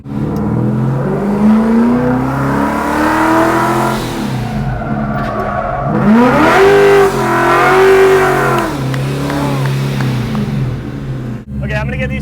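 A Ford car's engine revs hard and swings up and down in pitch as the car drifts on the handbrake at a Ford festival, loud and close, with voices heard over it in places.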